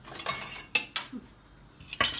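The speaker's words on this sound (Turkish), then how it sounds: "Bir de şuradan kaşık çatalımızı da çıkartalım." Spoons and forks lifted out in a home kitchen, a few sharp metallic clinks and rattles in quick bursts, close and fairly quiet, with no talk.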